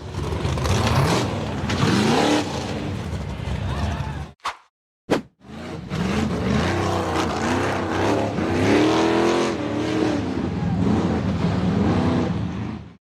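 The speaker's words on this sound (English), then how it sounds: "The black buggy cleared the first rock step smoothly, but when it charged up the steep rock face ahead" A black off-road buggy roars loudly up a steep rock face, its engine revving hard and wavering in pitch, then cut off by two abrupt breaks before the straining engine returns and keeps pulling.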